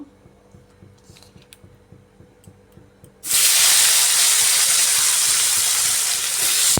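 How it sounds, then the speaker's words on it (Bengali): Potatoes coated in salt and turmeric drop into hot leftover fish-frying oil topped up with fresh oil, bursting into a loud, steady, dense sizzle after a few seconds of quiet kitchen ambience. "মাছ ভাজার পর যে তেলটা রয়েছে এর মধ্যে আরও একটু তেল দিয়ে দিচ্ছি এবার এর মধ্যে লবণ হয় হলুদ দিয়ে মাখিয়ে রাখা আলুগুলা ভেজে নেব"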